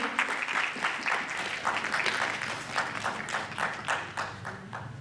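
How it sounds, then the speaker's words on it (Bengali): An audience applauding at a festival event, steady dense clapping from many hands sustained for the whole stretch, moderately loud in a roomy space with no speech over it. "সকলে একটু করতালি দেবেন।"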